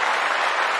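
A short, steady burst of clapping, dense and even like applause, lasting under a second with no talk over it.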